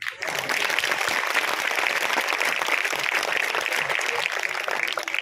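A packed audience claps continuously and loudly at a college gathering's inauguration ceremony at Sant Ramdas College, a dense, even wash of applause holding steady from start to finish.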